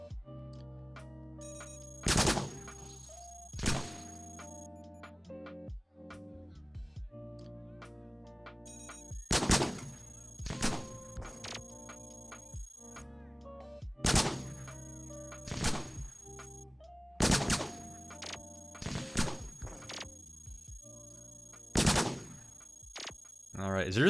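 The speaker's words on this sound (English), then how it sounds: "we're gonna shoot directly at you" Flak guns in the robot roguelike Cogmind fire as sharp, punchy shot bursts, roughly a dozen spread irregularly over twenty-odd seconds. The shots come in pairs and clusters, with steady electronic game tones humming beneath them.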